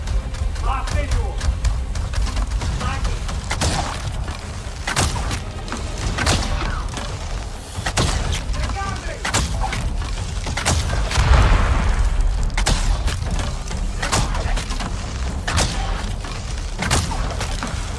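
Incoming weapon fire striking a ship in Star Citizen, a continuous barrage of booming impacts and thuds, loud and close, with voices talking over the fire.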